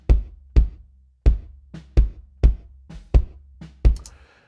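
A gated bass drum captured by microphones inside and outside the shell gives eight punchy, close, loud thumps at an uneven pace. Each hit cuts off sharply into silence.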